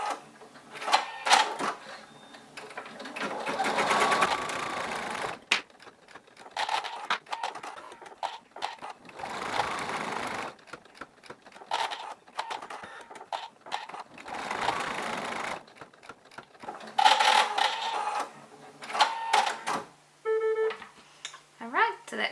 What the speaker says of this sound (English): Now we're doing the placement stitch for the roof